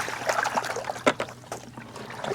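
Freshly caught yellowtail mackerel tipped out at a pier, a brief wet spill of water and slapping fish with a sharper splash near the middle, fairly close and with no talking.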